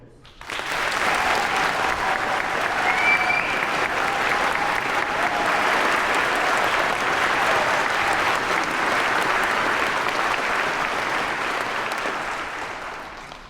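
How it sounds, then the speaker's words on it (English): A large audience bursts into applause for new soldiers at a basic combat training graduation, a broad, even roar of clapping that swells in quickly, holds steady for over ten seconds, then tapers off. "please join me in a round of applause for America's newest soldiers"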